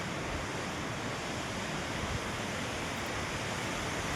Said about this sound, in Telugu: చెలించేను వాటర్ ఫాల్స్.